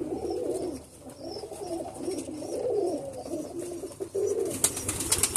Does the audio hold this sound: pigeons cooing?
yes